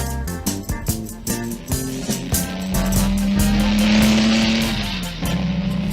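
Cartoon car engine from a 1973 Dr. Seuss animation, a rising motor whine under bouncy music that swells and holds steady before dropping off.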